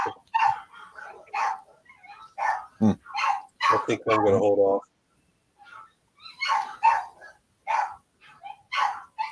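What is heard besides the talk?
dogs barking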